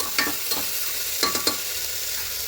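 Green chili and ginger paste frying in a pan hisses steadily while a spatula scrapes through it in a few short strokes, close up.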